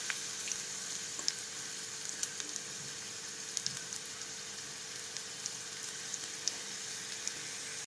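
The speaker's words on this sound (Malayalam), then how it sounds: "മുഴുവൻ ഫ്രൈയും നമുക്ക് വറുത്തെടുക്കാം." Okra fries in hot oil with a steady, close sizzle and frequent small crackling pops over eight seconds, with no voices.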